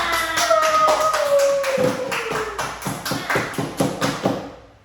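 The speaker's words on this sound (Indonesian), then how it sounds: "Tepuk tangan untuk kita semua." Schoolchildren clap together in a primary mathematics class, a run of rhythmic claps that starts under a brief voice, then continues alone in roughly even beats before fading out.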